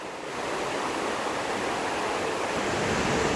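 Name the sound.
La Fortuna waterfall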